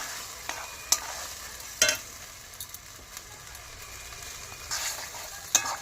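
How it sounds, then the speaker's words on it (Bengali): Mutton being sautéed with spices in a pan for Bengali mutton kosha with potatoes: a low, steady sizzle with several sharp scraping clicks of stirring spaced through the stretch, no voices. "ভালো করে মশলার সাথে মাংসটা কষে নেব।"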